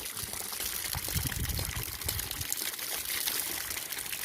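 A solar-pumped pipe at a rice-field hut pours a steady stream of water in the afternoon sun, a soft, continuous close splashing trickle.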